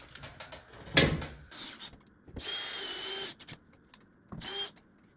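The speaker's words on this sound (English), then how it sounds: "I'm securing that first layer with 1 5/8 inch coarse-threaded drywall screws." A power drill drives 1 5/8 inch coarse-threaded drywall screws into sheetrock in a double-layer patch repair, with short whirring bursts of the motor separated by pauses and handling clatter.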